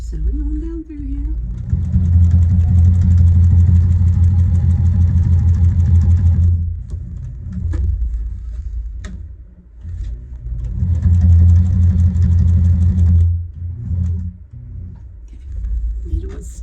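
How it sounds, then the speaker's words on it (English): A sewing machine stitches fabric for a scrunchie in two steady motorized runs of a few seconds each, separated by a pause with a brief voice and some handling noise. "So we're going to keep sewing on down through here."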